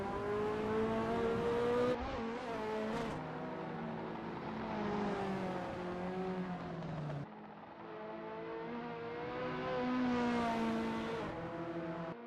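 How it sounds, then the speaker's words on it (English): A Ferrari F40 in a racing video game roars around the Sonoma circuit, its engine note rising and falling through gear changes, with sharp drops where it lifts off. The sound is loud and continuous, with no voices. "That ASRL Ferrari F40 looks good driving through T7."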